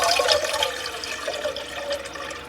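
Water pouring into a container, a steady splashing gush that runs on for a couple of seconds with no voices.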